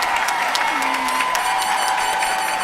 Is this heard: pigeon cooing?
no